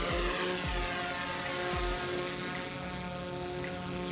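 A DJI drone's small propellers make a steady, high whirring buzz, humming continuously overhead at moderate volume, with faint intermittent clicks and no speech.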